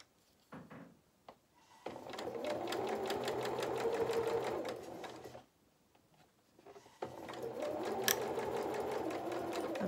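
A sewing machine stitches fabric for a toy Highland cow head in two bursts of rapid, even mechanical whirring, with a short pause and faint handling clicks between them, close and clear.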